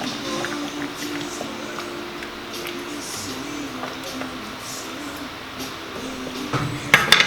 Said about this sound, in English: We're going to add our fresh parsley. Give that a nice little mix.